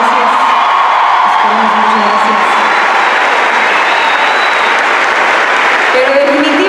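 A large concert audience at Luna Park applauds and cheers loudly and continuously, dense clapping with whoops and shouts filling the hall, while a voice speaks over the crowd.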